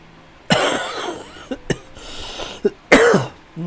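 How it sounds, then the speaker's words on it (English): Harsh, nasty coughing: several separate loud, rasping coughs and short throat-clearing bursts spread over a few seconds, close to the microphone, with quiet gaps between them. "That's a nasty cough."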